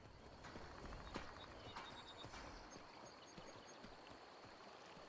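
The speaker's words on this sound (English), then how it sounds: "Alright, horse, be free. Start your merry journey away." Hoofbeats of a horse in Skyrim, clip-clopping at a quick steady rhythm, faint and fading slightly as it moves off, with a soft ambient wash underneath.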